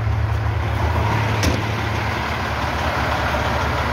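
A Freightliner truck's diesel engine idles close by in a steady, continuous low rumble with an even hum throughout, one brief sharp click or tick partway through and no one speaking.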